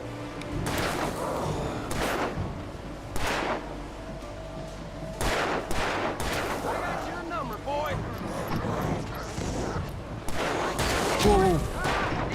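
Gunfire in the video game Alan Wake: several scattered shots and bursts over constant game ambience, with voices talking between the shots.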